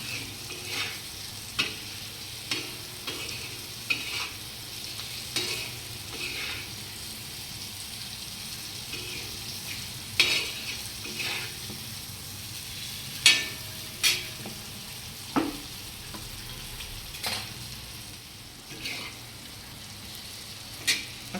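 Dried Bombay duck fish roasting in an iron pan, with a soft continuous sizzle and repeated scraping and clinking strokes as it is stirred, no speech.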